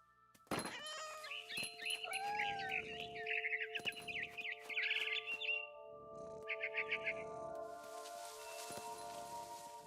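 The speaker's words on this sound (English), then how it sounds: "It was a barn swallow going back to her nest." Barn swallow chirps and twitters in the game What Remains of Edith Finch, a bright run of quick tweets over a sustained musical tone, fairly close and clear, with several bursts and short pauses.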